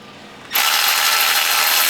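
Socket ratchet loosening the oil drain plug on a 2021 Honda Ridgeline: after a brief quiet moment, a loud, dense, continuous ratcheting whir runs close up to the end.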